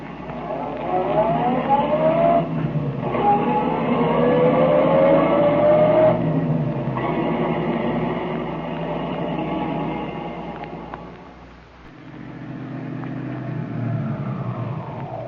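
A car engine sound effect from an old-time radio detective drama hums and revs steadily with rising and falling tones, fading briefly before picking up again, loud and close with no talking.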